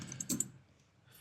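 A few quick, light keystrokes click on a computer keyboard, faint and close, followed by a short pause.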